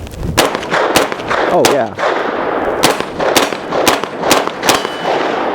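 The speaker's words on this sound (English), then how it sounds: "so I'm just gonna have to get behind the gun to shoot it" A 9mm submachine gun fires several sharp, loud shots in short bursts with uneven gaps, ringing with reverb at an outdoor range; a voice is briefly heard between shots.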